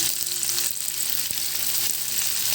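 Bitter gourd (ampalaya) being stirred in a frying pan with salt, giving a steady close sizzle broken by a few light scraping strokes of the spoon, with no talking.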